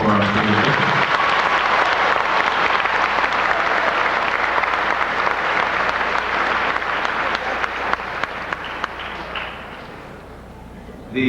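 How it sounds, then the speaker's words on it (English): Prolonged, loud applause from a large audience at a high school graduation ceremony, a thick continuous roar of clapping that holds steady for about ten seconds before thinning out near the end. "May we now have a nice round of applause for our speakers."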